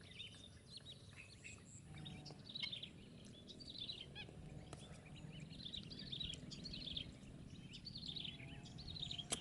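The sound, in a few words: birds singing in nature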